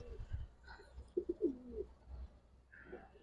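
Giribaz and coloured fancy pigeons cooing quietly at a bird seller's in Old Dhaka: a short cluster of soft, throaty coos in the middle, otherwise low background murmur.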